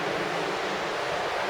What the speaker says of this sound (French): c'est juste le bruit de l'eau